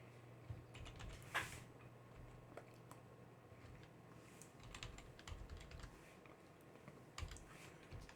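A command typed on a computer keyboard at a Linux terminal, a soft, close run of irregular key clicks for about eight seconds with no voice.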